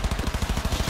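A gun firing in the video game Cyberpunk 2077, a rapid burst of about a dozen evenly spaced, close, punchy shots with heavy recoil, with no talk over it.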